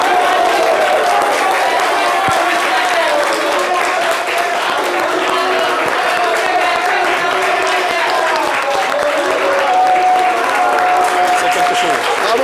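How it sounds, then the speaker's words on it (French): A standing audience applauds and cheers at a live Ivorian show, the clapping loud and steady throughout with crowd voices mixed in. "je vais vous demander de vous tenir debout pour applaudir."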